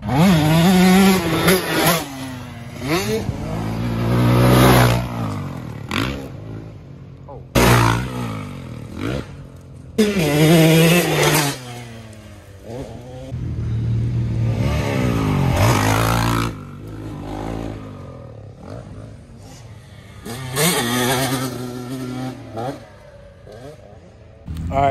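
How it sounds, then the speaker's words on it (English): A 2022 KTM motorcycle being ridden, its engine revving in loud rising and falling sweeps that come and go in several bursts, close by, with quieter gaps between runs. "out here riding his new bike"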